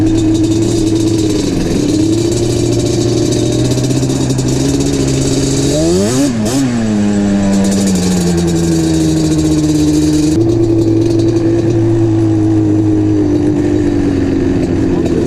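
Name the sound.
Yamaha Banshee ATV engine revving as it is parked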